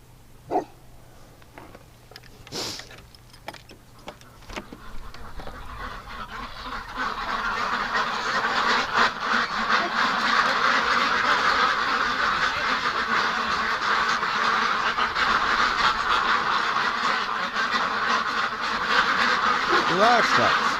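A flock of ducks quacking loudly and continuously nearby, a dense overlapping chorus, with a person speaking at times.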